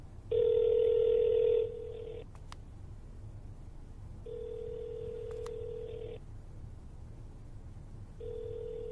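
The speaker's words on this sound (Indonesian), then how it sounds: "I'm sorry, the person you are trying to reach has a voicemail box that has not been set up." A telephone ringback tone repeats in long, evenly spaced electronic pulses during a call, with a louder first tone and short clicks between, before a voicemail message.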